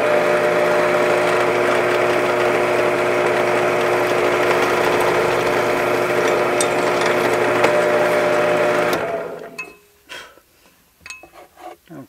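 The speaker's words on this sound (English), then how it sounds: "I'll drill just this piece here with a 9/64 drill." Power drill with a 9/64 bit boring through a small scrap piece, a loud steady whine held close for about nine seconds before cutting off, followed by faint handling clicks.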